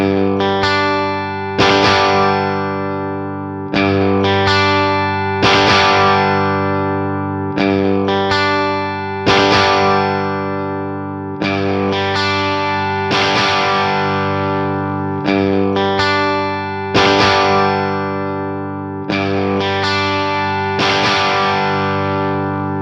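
Clean electric guitar chords played through an amp model and a real amp, struck in a steady, repeating pattern with each chord ringing out and decaying before the next, loud and alone.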